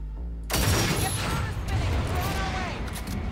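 Rapid gunfire from the video game Cyberpunk 2077, a dense burst of shots that starts abruptly and keeps going as layered, continuous firing with loud impacts throughout.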